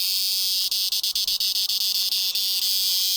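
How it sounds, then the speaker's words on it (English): A cicada calls loud and continuous in a Trinidad rainforest, a dense, steady buzzing drone broken by a quick run of brief, rhythmic dips, with no voices over it. "Yes, this is a cicada, and it's got to be one of the noisiest denizens of the rainforest"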